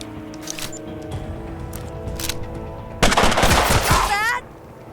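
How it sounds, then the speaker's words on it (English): Gunfire from the Rambino weapon in the video game Mutant Year Zero: a sudden loud burst of rapid shots roughly a second and a half long, following a stretch of quieter in-game ambience and clatter. "Selma will follow things up with a volley from the Rambino."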